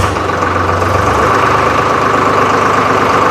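A Swaraj 733 FE tractor engine idles steadily close by, a constant low mechanical drone with a faint rattle and no change in pace.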